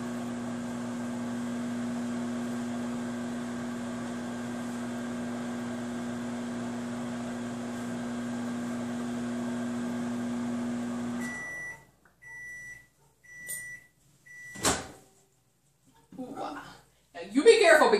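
A microwave oven cooking a chicken pot pie hums steadily with a tonal drone for about eleven seconds, then stops with a few short beeps followed by a door clunk and clattering, quiet near-silence between.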